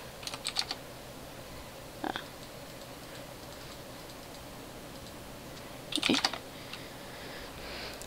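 Short bursts of typing on a computer keyboard, a few quick clustered clicks separated by pauses, close and fairly quiet over a faint room hiss.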